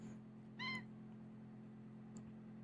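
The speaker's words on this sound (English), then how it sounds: "My cat just meowed." A single short cat meow, one clear harmonic call about half a second long, quiet against a steady low hum, with a faint click later and no talking.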